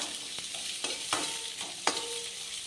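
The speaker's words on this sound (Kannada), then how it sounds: "ಈರುಳ್ಳಿ ಹಾಕಿ ಫ್ರೈ ಮಾಡಿ" Onions frying in a pan with ginger-garlic paste for a North Karnataka festival dish, a steady soft sizzle with several sharp stirring scrapes of a spoon against the pan.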